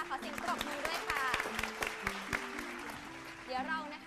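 A studio audience at a Thai Buddhist quiz show applauds, faint scattered clapping running under a voice.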